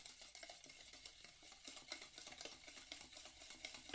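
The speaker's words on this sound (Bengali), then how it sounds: "একসাথে ভালো করে এটাকে মিশিয়ে নেব" A spoon stirring sugar into an orange juice mixture in a bowl for an eggless orange cake, producing soft, rapid scraping and clinking strokes in a steady rhythm, close and faint, with no talking.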